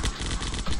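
Rapid assault rifle fire from the zombie shooter game Zombocalypse, a dense continuous burst of shots packed close together, loud and alone with no voices.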